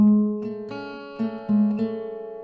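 A clean acoustic guitar picks single notes in a steady, ringing pattern, each pluck overlapping the last, played close and alone.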